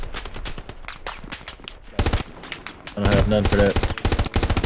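Rapid bursts of machine-gun fire from the Hell Let Loose World War II shooter, rattling close and loud in sustained strings that get heavier toward the end, with a brief spoken line over them.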